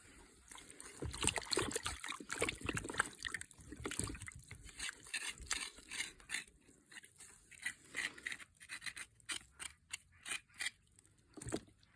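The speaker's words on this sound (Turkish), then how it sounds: "İki, iki kere daha sudan geçireceğiz." Peeled sugar beets are rinsed in water, with trickling, splashing liquid and the knock and scrape of beets handled in a basin, steady at first and then broken into short separate splashes toward the end.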